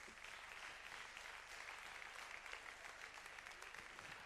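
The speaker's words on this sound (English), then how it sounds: "A big round of applause for our nominees." Steady, even applause from an audience at a beach soccer awards ceremony, greeting the Best Coach of the Year nominees; a dense, continuous patter that stays level throughout without individual claps standing out.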